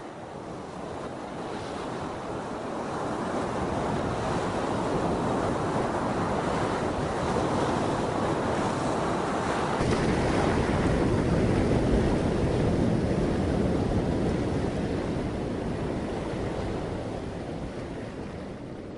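Ocean surf crashing and rolling steadily, a loud continuous wash of breaking waves with wind noise buffeting the microphone, building toward the middle and easing off at the end, with no voices.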